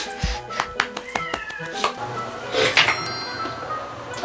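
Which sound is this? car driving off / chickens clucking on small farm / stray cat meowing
stray cat meowing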